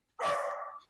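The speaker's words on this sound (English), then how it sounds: "Can you guys hear my dog?" A dog gives one loud, sustained bark that goes on for most of a second, heard indoors at home.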